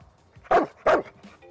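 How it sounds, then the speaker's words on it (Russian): A guard dog gives two loud, menacing barks about a third of a second apart, close by in a quiet setting. "Грозный лай – один из признаков, что собака может напасть"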